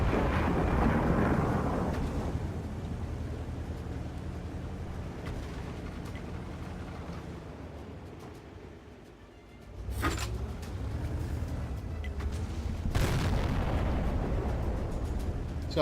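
Tank cannon fire in World of Tanks: loud booming blasts open the stretch, then two sharp cannon shots hit near the ten- and thirteen-second marks over a steady rumbling engine bed.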